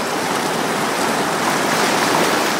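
Strong ocean waves surge steadily onto the shore at Naalechu, Hawaii, a loud, continuous wash of churning surf with no clear breaks and no voices.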